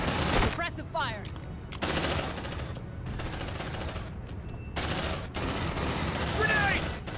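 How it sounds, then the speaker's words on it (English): Suppressive machine gun fire in Aliens: Dark Descent rattles in dense, sustained bursts, broken by short gaps. Chirping and clicking game effects sit over the gunfire, and game voices mix in. "Suppressive fire."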